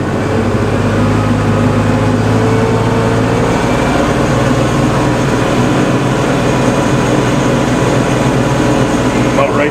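A tractor engine runs steadily and loud with its PTO engaged, spinning up to drive a rototiller, a continuous dense mechanical drone with constant churning, close to the microphone.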